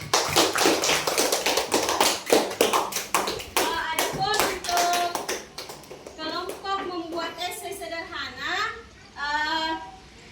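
A class of sixth-grade pupils claps hands together in a crisp, rhythmic pattern for several seconds, then the children's voices join in with a lively group chant while a few claps continue beneath.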